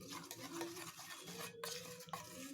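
Baking soda and baking powder stirred into a spoonful of oil in a small bowl for tawa pizza dough, a faint steady scraping and stirring with a couple of light clinks.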